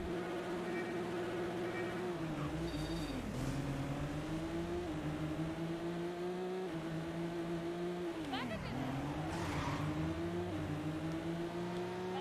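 A car engine in the racing video game Midnight Club 2 drones steadily, rising and falling in pitch as it shifts and revs, with brief dips around gear changes, at a moderate level throughout.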